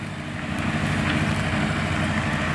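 A YuMZ tractor with a D-240 diesel engine runs steadily nearby, a dense, rough continuous rumble with no pauses or talking.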